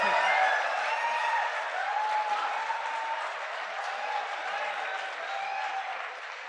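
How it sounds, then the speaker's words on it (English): An audience at an IIT Bombay valedictory function applauds after a poem, a sustained wash of clapping that slowly fades, with voices faintly mixed in. "A loud round of applause for Ram Ratan once again."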